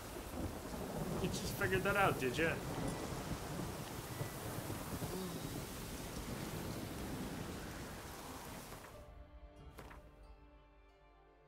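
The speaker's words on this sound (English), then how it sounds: "A storm, damn it." Steady heavy rain with rumbling thunder from a thunderstorm in The Witcher 3 video game, a dense wash of downpour continuing loud throughout, with a voice speaking briefly early on over the storm.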